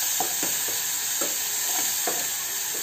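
Spice masala for batata vada fries and sizzles steadily in a pan, with several soft stirring scrapes at an uneven rhythm, close and alone.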